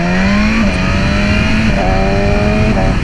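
A BMW S1000RR sport motorcycle engine accelerates on the road during break-in, limited to 8,000 RPM, a loud close whining rev that climbs, dips briefly at each gear change, then climbs again.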